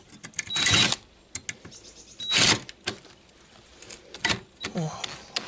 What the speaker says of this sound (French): Faut que je finisse autrement qu'avec la perceuse.